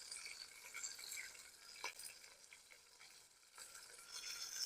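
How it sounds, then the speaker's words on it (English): Food frying crisp in an outdoor Jamaican cooking setup, a faint airy crackling sizzle with brief scraping stir strokes, quiet and alone. "Fry up on the side a little longer."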